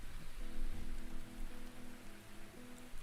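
Steady rain falls in the background, a dense even patter on a surface with a faint low tonal hum running through most of it and no voices.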